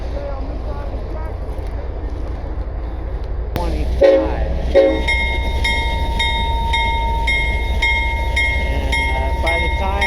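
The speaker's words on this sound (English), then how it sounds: "This train's gonna start moving." A train horn sounds over a rumbling engine and rolling rail noise, with sharp clanks as the cars begin to move; a person speaks briefly.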